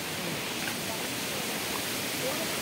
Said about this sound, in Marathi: इथून मोठा हा धबधबा आहे आणि पलीकडं लहान धबधबा आहे.